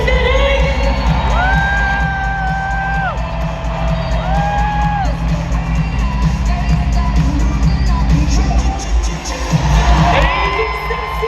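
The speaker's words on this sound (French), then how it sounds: "Et la foule, je vous entends crier même du bruit pour votre pancarte préférée" Stadium crowd at a Montréal Victoire hockey game cheering and shouting in a loud, continuous roar, with whistle-like tones and whoops rising above, and a swell of cheers near the end.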